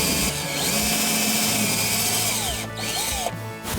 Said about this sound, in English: You have to be careful when you're putting the pin in to get the hole drilled squarely